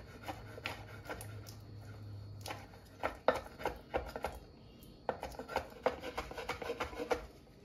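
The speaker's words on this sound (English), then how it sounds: "the next step is to start chopping our cherries and our raisins" A knife chops cherries and raisins on a cutting board in a kitchen, a run of quiet, close, irregular taps and scraping rubs with short pauses, no talking.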